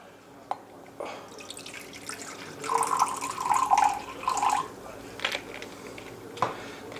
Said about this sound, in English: I'm going to take my measuring cup and I'm going to measure 3 ounces